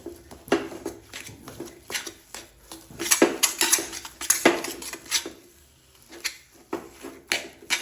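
Dates (khajoor) are roasted without ghee or sugar and stirred in a pan, giving repeated metallic scrapes and clanks of a spoon against the pan. The strokes are irregular and close, with short pauses between clusters and no talking.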